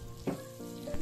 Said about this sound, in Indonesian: Untuk menumis toppingnya ini pakai Blue Band ya, cukup 1 sendok makan aja